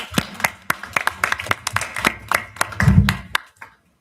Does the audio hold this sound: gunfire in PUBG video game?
no